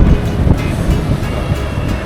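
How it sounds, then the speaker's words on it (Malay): Strong hot wind buffets the microphone at an open-air tower lookout in Kedah, Malaysia, a steady loud rumble with repeated gusty thumps and no voices. "Tapi dia panas tapi angin kuat tau."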